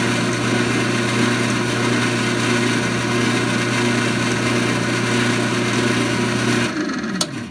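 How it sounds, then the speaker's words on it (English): A drill whines continuously at high speed, its bit grinding and skittering over the hard metal of military pliers before spinning down near the end. "The drill bit can't bite, so it tends to walk around and spin around the surface."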